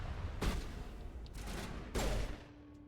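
Gunfire in the video game Mass Effect Legendary Edition, two sharp nearby shots about a second and a half apart with a fainter report between, over steady game background noise and no talk.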